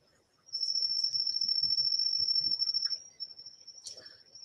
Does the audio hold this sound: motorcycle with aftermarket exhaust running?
no